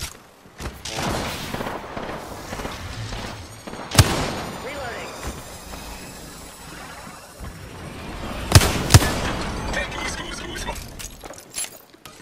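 Video game gunfire, with a couple of sharp loud shots standing out among rumbling bursts of weapon and effects noise while a voice talks over the action.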